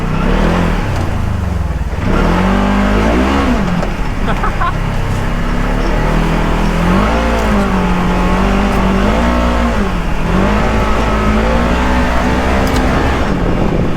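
A truck engine revs hard under throttle while being driven, its pitch rising and falling in repeated surges, loud and close, with a steady low drone underneath and no speech.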